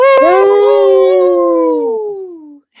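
A loud, close, single drawn-out howl with a wavering pitch that slides slowly downward and fades after about two and a half seconds, probably a person imitating a wolf howl on a radio show.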